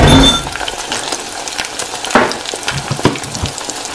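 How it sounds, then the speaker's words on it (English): An egg hits a hot pan with a loud initial burst, then settles into a steady crackling sizzle dotted with light clinks, close by. "Next, add the egg. And let the egg cook for a while."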